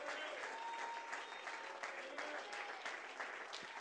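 Congregation applauding and cheering at a church service, a steady dense clatter of hands with some voices, moderately faint throughout.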